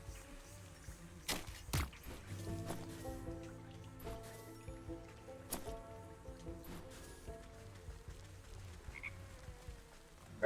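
Toads croaking by a bog in the video game Wytchwood, scattered low croaks and occasional sharp wet pops and drips, fairly faint and spaced out against a quiet ambient backdrop.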